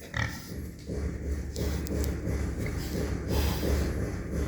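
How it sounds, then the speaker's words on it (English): Breeding sows in a farm pen grunt and snort close by over a steady low rumble and some wind buffeting on the microphone. "in the next pen, we have two of our breeding sows"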